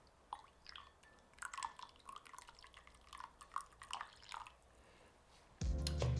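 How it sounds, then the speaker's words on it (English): Quiet dripping and trickling as the remaining hot water is poured into an Aeropress coffee brew on a scale; faint, close and irregular, with a loud burst of noise at the very end. "So go ahead and tare your scale and add that remaining water."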